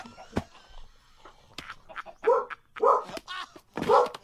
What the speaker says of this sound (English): Ignore the dog.